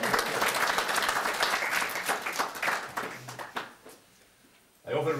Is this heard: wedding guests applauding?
yes